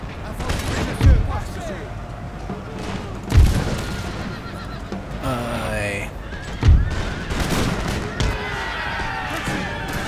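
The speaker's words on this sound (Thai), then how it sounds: "ทหารม้ามาบุกก่อนเลย" Cavalry horses in Napoleon Total War neigh and whinny amid a battle, with three heavy booming gunshot or cannon blasts spaced across the din and someone talking over it.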